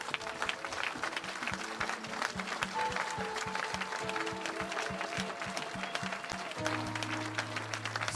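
Church congregation applauding steadily in acclaim of God, a dense continuous wash of clapping with a rhythmic beat and sustained musical tones underneath, loud and filling the space.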